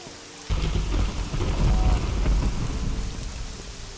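Rain pours steadily in the video game Morrowind as loud, rolling thunder rumbles in, a dense and close wash of noise that swells and lingers for the whole stretch.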